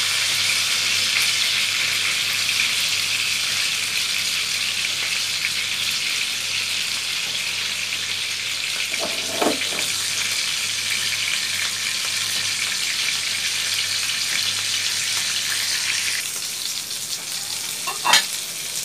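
Bata fish frying in hot oil makes a continuous dense sizzle that holds steady and eases slightly near the end, with a couple of faint clinks of a utensil.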